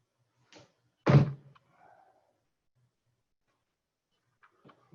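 A person landing a countermovement jump, squatting to about ninety degrees of knee flexion before exploding upward, onto force plates in a biomechanics lab: one sharp, loud thud, with a faint softer knock before it and light scuffs after, in a quiet room.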